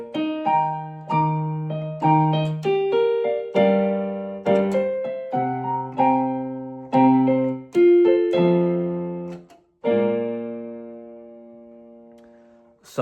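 An electronic piano mimicking a grand plays a slow sequence of sustained low-register chords, each struck firmly and ringing out, ending with a long decaying chord, with no talking.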